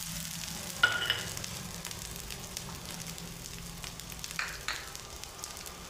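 Cumin seeds, grated coconut and coriander sautéing in hot oil for a peanut fasting curry, giving a steady soft sizzle with a few brief crackling bursts, close and fairly quiet, with no talking.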